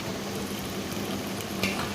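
Chopped onions fry in a pan, browning to a reddish colour, with a steady, moderately quiet sizzle that holds evenly throughout and has no talking over it.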